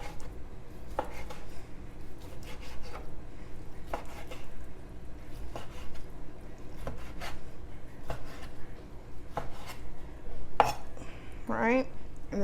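Sausage being sliced lengthwise with a knife on a cutting board: repeated close taps and scraping strokes of the blade against the board, with a few louder knocks and a brief clatter near the end.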